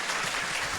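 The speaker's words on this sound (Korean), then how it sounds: "저희가 이제 박수 한번 하시죠." Brief, moderately loud clapping from an audience in a Korean studio talk show set, a short dense burst with no voices over it.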